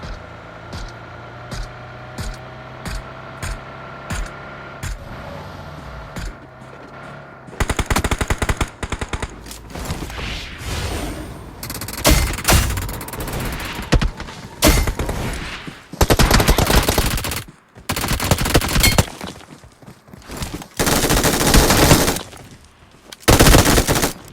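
Rapid automatic gunfire in a rush-style shooter game, opening with sparse spaced shots over an idling engine hum, then erupting into loud sustained bursts and long fusillades with short pauses between volleys.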